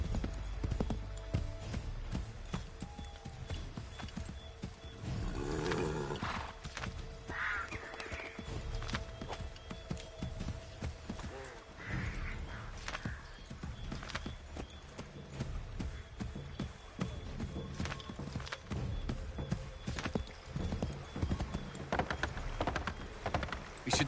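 Horse hooves clip-clop steadily in Assassin's Creed 3, a continuous rhythmic gallop with an occasional whinny, set against game ambience and music for most of the stretch.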